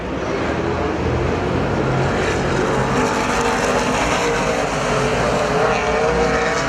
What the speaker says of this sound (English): Down the back straightaway, final time, going to be his 3rd win of the year, the PASCAR Super Stocks.